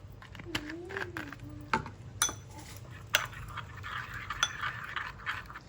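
Lemon-juice marinade being stirred in a bowl at home, with soft clinks and scrapes of a utensil against the dish, irregular and close, under light background noise and a voice.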